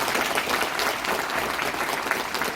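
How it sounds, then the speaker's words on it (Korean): Crowd applause at a citizens' report meeting about the induced earthquake in Pohang, South Korea, a dense continuous wash of clapping from a large audience throughout. "이 모든 분들께 여러분 큰 박수 한번 부탁드립니다"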